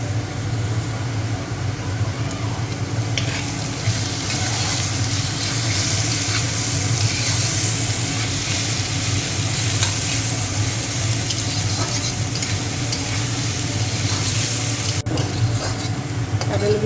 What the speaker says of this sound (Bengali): রসুনগুলো ভেজে নিচ্ছি